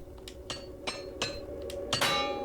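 A hammer weapon breaking in Oblivion Remastered, heard as a series of sharp metallic clanks and impacts at uneven intervals, ending in a brighter, louder crash.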